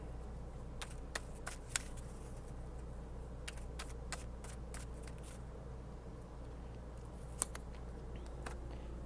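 Tarot cards shuffled and drawn in a tarot reading, giving a string of faint, crisp card snaps and flicks spread across the clip over a steady low hum, with no talking.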